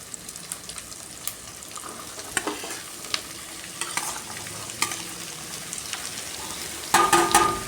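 Ridge gourd pieces stir-fried in a pan for poriyal, a steady sizzle broken by repeated spatula scrapes and taps, growing louder and busier at the end, no voices.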